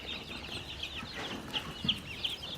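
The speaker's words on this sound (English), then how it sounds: "Those are the barred rocks, I think, and the ducks." Barred Rock chickens, kept with ducks, cluck softly in a few short, quiet bursts over a faint farmyard background.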